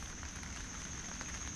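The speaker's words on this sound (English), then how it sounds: "Yeah, it's raining now." Steady rain falls outdoors around a 1987 Honda TRX 125 quad, making a dense, even hiss of drops on surfaces with no voices over it.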